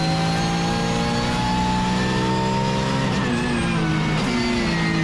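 A Porsche race car engine at Zandvoort accelerates hard through an overtake, a loud, steady high-revving drone rising in pitch, with a brief gear-change dip and another car close by.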